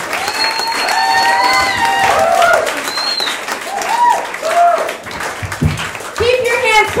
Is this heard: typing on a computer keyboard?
no